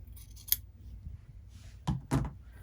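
Scissors snipping quilt binding fabric: one sharp snip early, then a pair of close, louder cuts near the end, with quiet pauses between and no talking.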